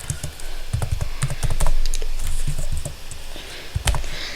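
Rapid, uneven keystrokes on a computer keyboard, typed while entering a design search in Canva, clatter steadily and close up with short pauses between bursts and no talking.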